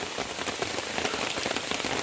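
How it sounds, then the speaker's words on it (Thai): Heavy rain pours down steadily, a dense, loud hiss of drops pattering on surfaces with no voices or pauses. "ฝนตกแห้งเลยทุกคนเลย"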